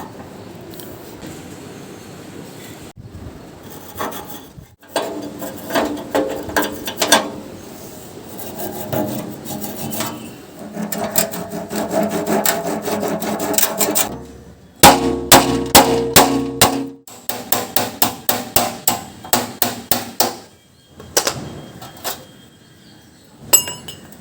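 Rusty parts of an old gas stove being knocked apart, with repeated metallic clangs and hammer blows in bursts, some rasping scrapes between, close and loud with no talking.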